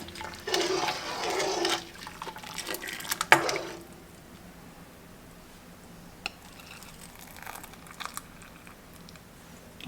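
Cabbage coleslaw and liquid poured and spooned into canning jars in a kitchen, a wet splashing and sloshing burst for about a second, then a sharp clink near three seconds, followed by quiet handling noises.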